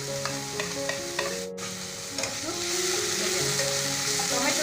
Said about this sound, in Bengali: টমেটো সসটাকে একটু নেড়ে নিয়েছি